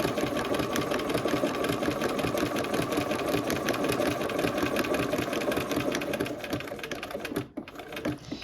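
A sewing machine runs steadily with a rapid, even mechanical stitching rhythm while stitching down a quilt edge, close and fairly loud, briefly slowing near the end as it reaches a corner.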